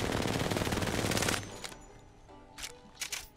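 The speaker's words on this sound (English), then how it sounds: "after 18 bullets, I'm gonna let the bullets just fly" R99 and R301 automatic rifles firing in the video game Apex Legends: a fast continuous burst that cuts off abruptly, followed by a few quieter, scattered shots and echoes.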